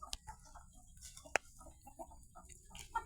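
Soft, faint clucks from a chicken, scattered chirps and a sharp tick, heard from some distance in a quiet outdoor temple ground in Chae Hom, Lampang, Thailand.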